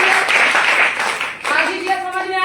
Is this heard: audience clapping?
yes